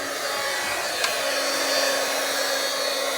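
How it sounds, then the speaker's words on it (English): An electric heat blower runs with a steady, loud whooshing fan roar while heating a smoke or heat detector, continuous and close with one small click partway through. "I like to use this heat blowing thing"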